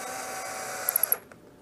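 A power drill with a 17/64-inch bit whirs steadily and fairly close for about a second, then cuts out, with a few quick clicks and a faint knock as it winds down.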